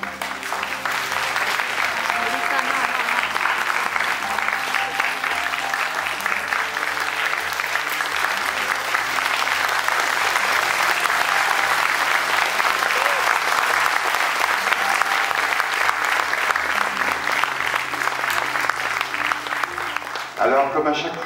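A seated audience at a bubble show claps in a sustained, loud wave of applause that holds steady for about twenty seconds before stopping abruptly.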